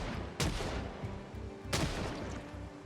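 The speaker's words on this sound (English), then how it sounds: "we are hitting some crazy shots" Two sharp gunshots fire at zombies in Project Zomboid, about a second and a half apart, over a low ambient game rumble, fairly quiet overall and without speech.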